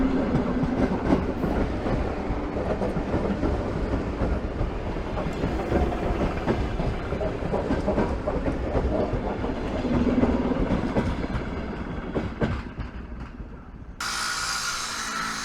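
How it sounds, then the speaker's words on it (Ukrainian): An electric commuter train passes near a tunnel area by a Kyiv bridge, a steady loud rolling roar with rhythmic clickety-clack of wheels over rail joints, swelling around the middle before cutting to a brighter, different ambience at the end. "Ніколи не можу змусити себе пропустити видовище, як проходить електричка."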